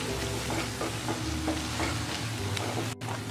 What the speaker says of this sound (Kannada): ಇವಾಗ ಇದಿಷ್ಟನ್ನು ಒಂದು 2 ನಿಮಿಷ ಚೆನ್ನಾಗಿ ಮಸಾಲೆ ಜೊತೆ ಫ್ರೈ ಆಗಬೇಕು